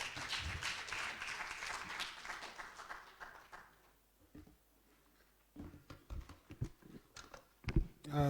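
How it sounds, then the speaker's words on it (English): A conference audience applauds at a high-level panel session, a burst of clapping that fades after a few seconds, followed by quieter scattered sounds and a few sharp knocks. "Can we give him a round of applause, please?"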